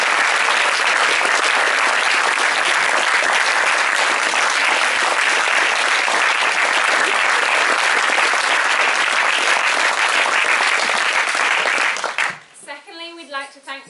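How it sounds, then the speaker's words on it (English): A large indoor audience applauds loudly and continuously at an event honoring a technician. The dense, even clapping fills nearly the whole stretch, then stops abruptly near the end, where a brief voice is heard. "could we have a round of applause for him?"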